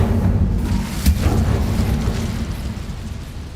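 The Incendio fire spell is cast in Hogwarts Legacy: a sharp burst near the start flares into a roaring, crackling rush of flame that holds loud and steady, then slowly tapers, with no voices.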